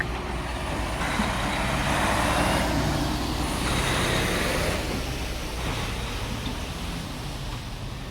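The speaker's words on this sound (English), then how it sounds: "Trucks are noisy on the microphone, I know that." A truck rolls past on a city street, its broad, loud rumble swelling and fading over several seconds with steady traffic noise underneath.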